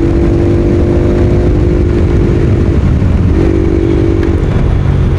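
A loud, rough modified Bajaj Pulsar NS 200 motorcycle engine idles and revs with a deep throaty rumble, steady and close throughout, with its dB killer still fitted.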